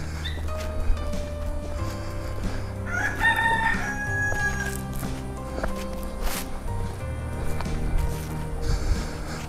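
Village roosters on a mountain path near Trabzon, one crowing at mid distance over a constant low background rumble, with faint scattered clucks and footsteps.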